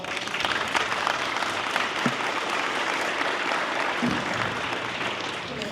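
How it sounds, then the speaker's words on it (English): An audience at a town hall in Gresham, Oregon, claps in a dense, sustained burst of applause that fills the room and stays steady throughout. "Give her a round of applause."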